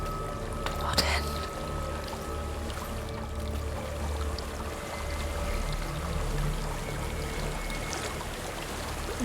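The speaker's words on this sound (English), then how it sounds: "There's a waterfall." A steady rush of falling water from a waterfall in Hellblade: Senua's Sacrifice, a broad continuous wash under the game's ambience, with a brief sharp sound near the start and faint whispering voices.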